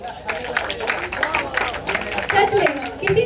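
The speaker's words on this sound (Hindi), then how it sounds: "आइए जो तालियों के साथ उनका शुक्रिया अदा करें" Audience applause thanking a guest speaker at a stage event, steady dense clapping from a crowd with some murmuring and a voice mixed in, continuing throughout.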